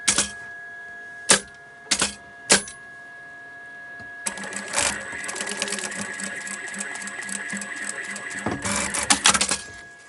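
A sewing machine stitches a zip onto fabric for a quilted artist's bag, opening with a few short separate bursts, then settling into a steady, close mechanical run of several seconds before stopping in quick stutters.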